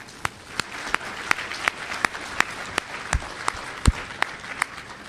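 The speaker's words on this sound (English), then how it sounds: "Let's give a good round of applause for the goons out here and the hard work they're doing." Clapping at a DEFCON 17 conference talk comes as sharp, evenly spaced claps in a steady rhythm, roughly three per second, over a quiet room hum.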